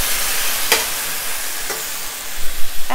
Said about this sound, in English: let's just stir fry this a bit